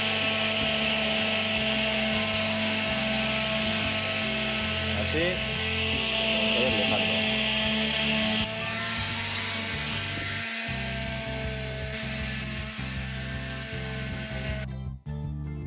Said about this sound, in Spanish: voy a utilizar esta práctica lijadora Delta con lijas intercambiables